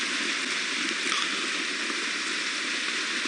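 Steady rain falling outdoors during a morning safari game drive, a continuous even hiss of drops with no voices.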